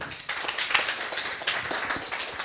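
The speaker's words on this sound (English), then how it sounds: "So big, again, round of applause" A conference audience gives a round of applause, moderately faint scattered clapping that carries on steadily for a couple of seconds in a large room.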